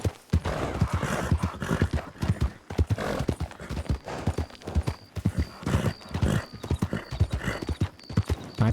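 Hooves clip-clop rapidly and rhythmically in a steady gallop, with a horse neighing over the pounding, game-like sound effects from Red Dead Redemption 2 close and loud.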